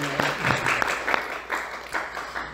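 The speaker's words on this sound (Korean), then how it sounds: "다 우리 박수로 격려하고 하는 게 좋은 겁니다." A church congregation claps together in a short burst of dense, fairly steady applause, individual hand claps audible within the patter, moderately distant in a large room.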